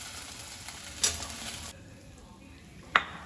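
Okra fried in hot oil on a high flame gives a soft, steady sizzle, then a spoon clinks against the pan twice as the pieces are scooped out, all fairly quiet with no talking.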